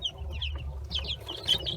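Young chicks hatched from store-bought eggs peep in quick, high, overlapping chirps close by, with a low steady background hum and no talking.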